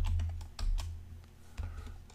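Keys clatter on a computer keyboard in a quick burst of typing, a few close, distinct taps while a value is entered in Fusion 360 design software, with a brief pause before a final keystroke.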